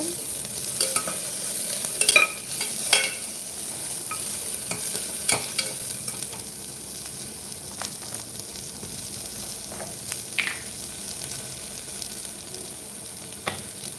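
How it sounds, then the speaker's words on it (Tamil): Tomatoes are sautéed in oil in a pan for tomato rice. Occasional spatula clinks and scrapes sound over a soft, continuous sizzle, close and moderately loud, with no talking. "நல்லா வதக்கிட்டுக்கோங்க"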